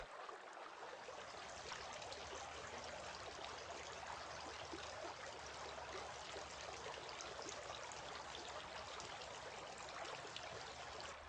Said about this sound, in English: Rinsing the mouth.